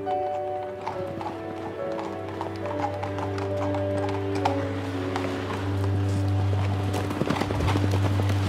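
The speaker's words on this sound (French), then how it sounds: "Actuellement, j'ai 2 chevaux, c'est 2 juments Franche-Montagne." A Franche-Montagne mare's hooves clip-clop at a steady walk, a continuous patter of soft taps over a constant low hum, moderately close throughout.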